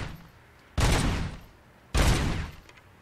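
Two loud rapid-fire bursts of gunfire in the RoboCop: Rogue City shooting-range minigame, each lasting about three quarters of a second and separated by a short pause, with no talking.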